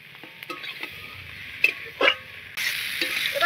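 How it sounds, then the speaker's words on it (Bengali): Prawns and potatoes being stirred into a fried spice paste in a pan, scattered scrapes and clinks of the spoon, then a sudden louder steady sizzle in the final second, close and without talk. "এবার আলু আর চিংড়ি মাছটাও দিয়ে দিচ্ছি। দিয়ে মশলাটার সঙ্গে একটু নাড়াচাড়া করে নেব।"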